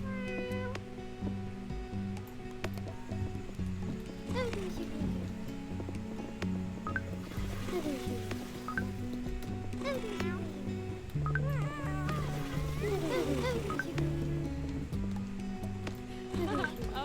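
Cats meow in the management video game Cat Cafe Manager, several short mews scattered over looping background music and game sounds, moderately loud and continuous throughout.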